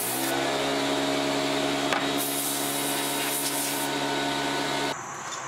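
Compressed air blows dust off a wooden kitchen cabinet door in a steady, loud hiss with small shifts in tone as the nozzle moves, cutting off sharply near the end.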